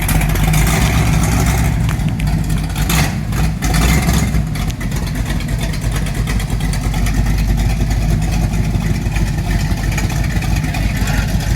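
A Chevrolet C10 pickup truck with its exhaust cutout valves open runs loud and close, with a deep, rough engine rumble and revving surges that hold steady throughout.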